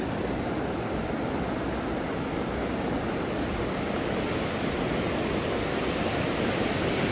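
Floodwater after two days of heavy rain rushes in a constant, dense roar, a loud unbroken wash of flowing water with no pauses and no voices.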